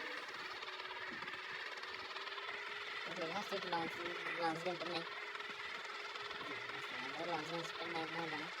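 Steady mechanical whir of a helicopter rotor in a video game, quiet and constant, with a person talking over it.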